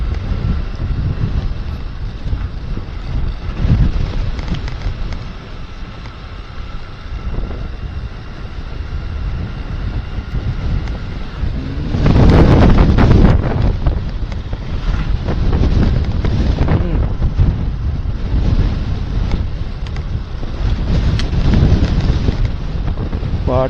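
Strong wind carrying dust buffets the microphone during a ride on a vehicle at a village festival, making a constant roaring rumble. The roar swells louder around the middle and stays heavy to the end.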